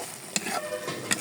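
A spoon stirs jackfruit seed curry with ground cumin and cardamom paste in a pan, producing a couple of scraping knocks over a soft, continuous frying hiss.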